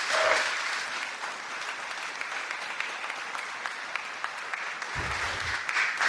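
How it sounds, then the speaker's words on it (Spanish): Church congregation applauds the Lord during a Spanish-language sermon, a sustained, even wave of many hands clapping at moderate volume from start to finish, with brief voices audible near the beginning. "dele un aplauso al Señor"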